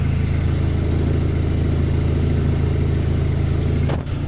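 A Saturn Sky engine runs at a steady idle after a timing chain replacement, a close, even, continuous hum with a low rhythmic pulse and no voices.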